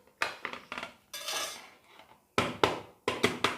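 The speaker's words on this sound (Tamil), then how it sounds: "லைட்டாக அப்படி டேப் பண்ணி விட்டிங்கன்னா வந்துடும் அப்படியே மேலே" Several sharp metallic taps knock on an upturned cake tin to release a double-layered vegetable cake, bright clanks in small clusters with a brief scraping rattle between, close and clear with no talking.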